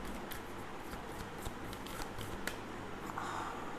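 Tarot cards are shuffled and drawn by hand: quiet, soft riffling and flicking with several sharp card snaps scattered through, close and faint against a low background hum.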